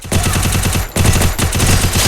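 Rapid automatic gunfire from the Free Fire Max mobile battle game, two dense bursts of loud, evenly spaced shots separated by a brief pause, with no talking.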